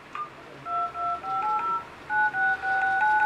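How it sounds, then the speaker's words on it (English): Phone keypad tones from a Chuwi V17hd tablet sound as a series of short dual-pitched beeps, each key press producing a clean steady tone, about a dozen in quick succession with brief gaps, close and clear with no talking. "dial tone, like a sound when you press the key, and a vibration."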